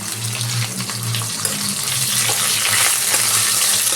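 Fried potato and cauliflower pieces tipped into a pan of rohu fish gravy, cooking with a steady close-up sizzle and soft stirring scrapes, with no talking.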